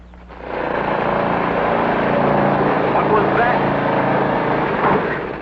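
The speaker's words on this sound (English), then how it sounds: "Pesky lawnmower." A lawn mower engine drones steadily and loudly in a vintage radio-era sitcom garden scene, starting up after a brief quiet moment and holding a constant rumbling roar while a voice speaks briefly over it.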